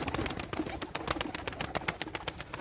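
Young tumbler pigeon squabs coo softly and repeatedly in a loft, with faint rustling and wing movement around them and no talking.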